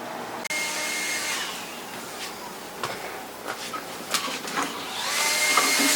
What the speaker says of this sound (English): now I'm gonna take it over to the bandsaw and let's